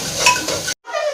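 Sliced onions and a bay leaf sizzle and crackle in hot oil in a pan, loud and steady, broken by a brief pause before the frying resumes, with no one talking.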